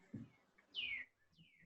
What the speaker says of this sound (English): All I hear is the birds chirping in the background.